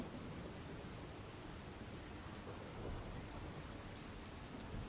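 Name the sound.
rain falling in Surat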